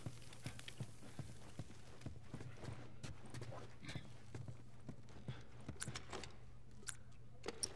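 Horse hooves clip-clopping in The Last of Us video game, a quiet, steady patter of light hoof knocks over a low droning hum, with scattered sharper clicks throughout.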